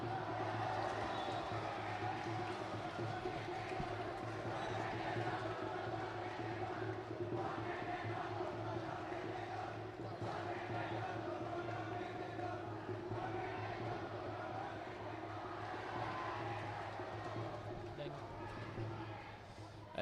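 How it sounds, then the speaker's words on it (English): At a school football match between Gateway College and S. Thomas' College at the Colombo Racecourse, a steady crowd roar continues for the whole stretch under continuous commentary. "As the crowd livens up again at the Colombo Racecourse"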